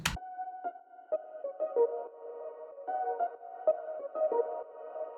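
A low-pass filtered synth lead melody from the Pigments synth plays softly in the background, a repeating loop of short, evenly spaced notes with a muffled, rounded tone after a brief sharp onset.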